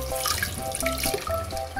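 Hot water runs steadily from a tap into a sink or basin where plastic dolls are being washed, a continuous close splashing gush with faint drips and no talking.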